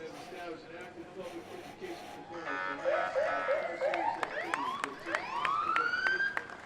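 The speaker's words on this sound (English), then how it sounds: "They always like to get those sirens going." Police sirens wail and yelp in rising, overlapping sweeps at a Veterans Day parade, growing louder over crowd chatter and background voices.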